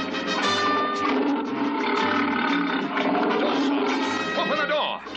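A cartoon lion in a circus setting gives a loud, sustained roar, thick and rumbling, filling the stretch before cutting off near the end.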